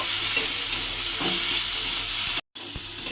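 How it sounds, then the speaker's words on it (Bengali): A ginger, garlic and onion paste fries in hot oil with a loud, steady sizzle. Occasional stirring scrapes cut through it, and the sound drops out briefly once. "আদা রসুন পেঁয়াজ বাটাটা আমি তেলের মধ্যে দিয়ে দিলাম। দিয়ে একটু আমি ভাজা ভাজা মতো করে নেব।"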